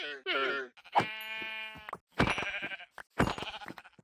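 Sheep in the Minecraft video game bleat several times in a row, close and fairly loud, each call a wavering nasal cry separated by short gaps.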